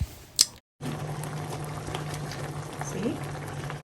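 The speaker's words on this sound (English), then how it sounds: "this is going to steam for about 10 minutes on its own" Gizzard steaming in a pot with blended garlic, onions and rosemary and no added water, a steady bubbling sizzle close by after a brief clatter and a short gap, with a low hum underneath.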